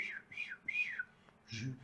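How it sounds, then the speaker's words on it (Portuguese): A few short, faint whistled notes rise and fall in quick succession, followed by a brief low voice at the end. "Ele ouviu um assobio."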